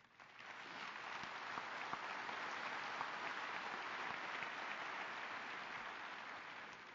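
Audience at a university commencement speech breaks into sustained applause, a dense, even wash of clapping that swells quickly and holds steady for several seconds, heard from a distance.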